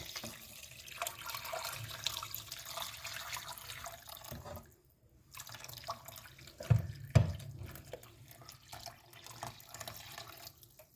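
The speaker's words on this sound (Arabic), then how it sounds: "عندي مية مسخناها انزل بيها" Heated water is poured from a container around a tightly sealed glass jar of sardines, a steady running splash that stops briefly midway, followed by a couple of soft knocks.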